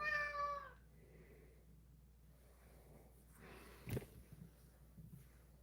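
A single drawn-out meow from a house cat opens the stretch, close and clear, followed by quiet room tone and a brief soft bump.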